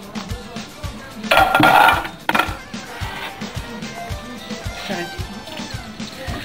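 Chicken livers and garlic cloves are tipped into a metal cooking pot with a burst of clattering and scraping, followed by lighter clinks and rattles of utensils against the pot while a person talks.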